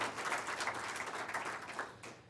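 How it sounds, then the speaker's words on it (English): Audience applause for a man named Larry at a Murray State College media announcement, a steady wash of clapping hands that holds for a couple of seconds and then thins out toward the end. "How about a round of applause for Larry?"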